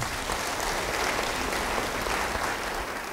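A crowd claps loudly and steadily, a dense, even wash of applause that continues throughout without cheering or speech.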